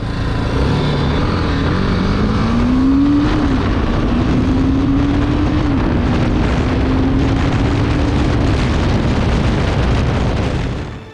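BMW G 310 GS single-cylinder motorcycle engine with ride-by-wire throttle revving loudly and continuously, a steady growl with rising and falling pitch as the revs climb, close and dominant throughout.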